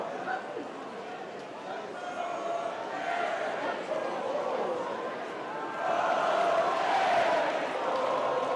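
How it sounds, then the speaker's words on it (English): Supporters at a Labour party conference cheer and chant Jeremy Corbyn's name, a broad, sustained crowd roar with rhythmic sung chanting swelling louder toward the end, crowd voices throughout. "Corbyn supporters cheering and singing his name."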